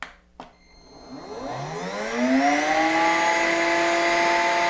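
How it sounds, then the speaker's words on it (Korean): Chison cordless vacuum cleaner running in normal mode: a click, then the motor spins up with a rising whine that settles into a steady, loud high-pitched hum, heard alone and close. "두 제품의 모터 소리를 한번 들어보도록 하겠습니다"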